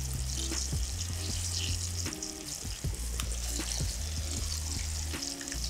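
Flour-dredged squirrel pieces sizzle steadily in a pan of hot oil, a continuous close crackle and hiss with scattered pops and a low hum underneath, no talking.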